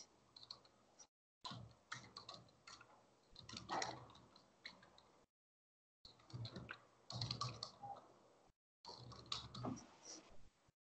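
Someone types a project title on a computer keyboard in quick bursts of soft, close key clicks, separated by short silent gaps.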